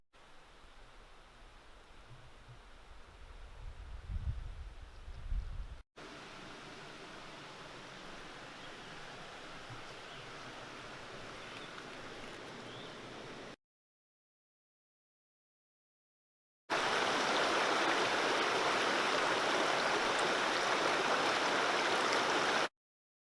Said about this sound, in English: maybe some more shots of the waterfall down there